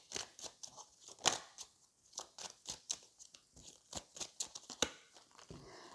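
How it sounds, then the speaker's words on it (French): Tarot cards are drawn from a deck in quick, crisp snaps and shuffling flicks, irregular and close, a dense run of short papery clicks with no voice. "pour le sentimental, je vais prendre 3 cartes"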